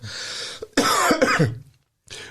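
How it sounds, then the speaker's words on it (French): A person coughs several times in quick succession, harsh and close, followed by a brief pause and another rough cough. "Oui, je vais tousser, excusez-moi."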